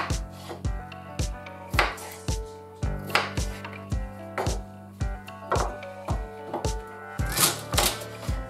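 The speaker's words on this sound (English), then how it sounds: "and then I'm going to dice up all my veggies." Knife chopping vegetables on a cutting board for venison stew, a steady series of close, crisp thunks at a regular rhythm, alone without talk.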